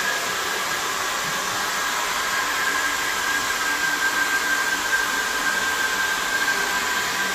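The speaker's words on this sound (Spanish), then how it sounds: "a utilizar la secadora y el cepillo para terminar de estilizar, estirar y acomodar el pelo perfectamente" A hair dryer blows steadily on a dog's coat during grooming after a spa bath, a loud, continuous whine with a faint tone running the whole time and no voices.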